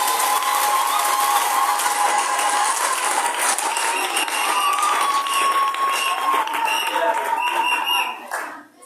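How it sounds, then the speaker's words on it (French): Sustained congregation applause in a church during a deacon ordination service, dense steady clapping throughout that fades out at the very end. "Applaudissez le Seigneur Jésus"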